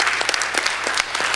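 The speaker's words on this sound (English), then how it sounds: "Give yourselves a round of applause." A room of attendees at a public budget hearing gives a short burst of applause, many hands clapping densely and close, with no talk over it.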